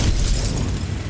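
Confringo fire spell explosion in Hogwarts Legacy on Nintendo Switch: a single loud, close, booming burst with a heavy low rumble that holds briefly.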